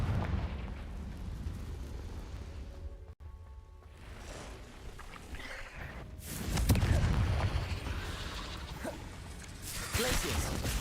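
In the game Hogwarts Legacy, the Confringo fire spell detonates in a booming, rumbling blast that swells midway and flares again near the end, over a low ambient background.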